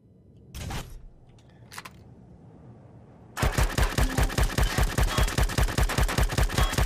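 Weapon fire from the space survival game Empyrion Galactic Survival: after a quiet start with a couple of isolated mechanical clunks, a rapid sustained burst of automatic shots starts abruptly and runs loud to the end.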